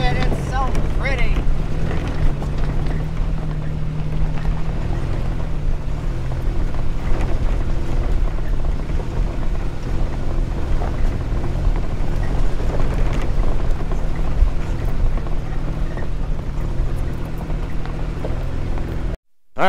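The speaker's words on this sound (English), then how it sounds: "Alright, so it's a bit breezy" Strong wind buffets the microphone at a mountain overlook beside an off-road trail, a continuous loud rumbling roar with gusty fluctuations that runs almost the whole way before cutting off abruptly.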